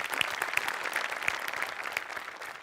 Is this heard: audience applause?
yes